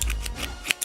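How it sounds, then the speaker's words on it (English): Barber scissors snip through hair in an unused sound effect from the game GTA San Andreas, a few quick close metallic cuts in under a second. "when Carl gets a haircut, the barber could use the scissors instead of the electric razor"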